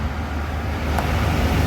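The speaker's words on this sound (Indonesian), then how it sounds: "ngebut Semarang Jaya. Jalan lurus, tancap gas semua nih." A Semarang Jaya Scania bus speeds flat-out along a straight road, a steady, loud low engine and tyre drone that swells slightly toward the end.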